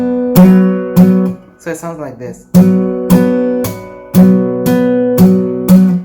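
Acoustic guitar played fingerstyle for a song, the thumb slapping the strings while strumming, giving sharp percussive hits in a steady rhythm of ringing chords, close and loud, with a brief spoken word in between.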